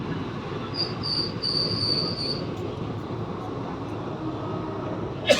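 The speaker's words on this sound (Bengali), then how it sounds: "তো আমাদের এখন বর্ধমান থেকে ট্রেন ছাড়লো।" A passenger train runs steadily just after pulling out of Bardhaman station, with continuous wheel and carriage rumble, a drawn-out high wheel squeal through the first half, and a brief sharp clank near the end.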